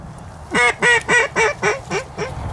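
A duck quacks six times in a quick, evenly spaced series during a goose and duck hunt in Illinois, loud and close, each call tapering off slightly toward the end.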